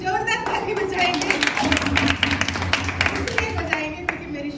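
An audience at a religious testimony gathering claps loudly in a dense, continuous burst of applause, with a voice speaking through it.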